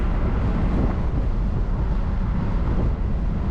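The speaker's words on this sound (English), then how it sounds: "Fire it up, idles right away, idle smooth." A 1965 Cadillac DeVille convertible idles smoothly with a steady, low rumbling engine drone that stays even and close for the whole stretch, with no talking.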